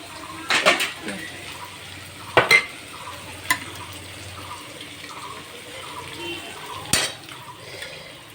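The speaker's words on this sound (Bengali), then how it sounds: "হাতটা ধুয়ে নিই" Hands rinsed under running water in a home kitchen: a soft splashing flow with several sharp clinks and knocks of pots and utensils over a quiet background, no voices.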